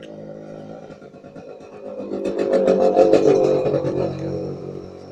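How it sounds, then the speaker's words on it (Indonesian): A motorcycle engine passes outside, a low droning hum that swells louder toward the middle as it nears, then eases off, heard faintly from indoors. "Sorry kalau dari tadi ada suara motor."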